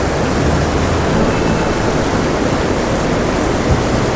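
A waterfall pours into a trout stream, a loud, dense, unbroken roar of rushing water close by, with no voices.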